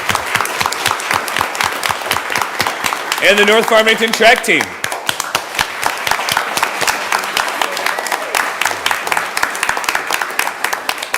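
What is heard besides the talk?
audience applause for student athletes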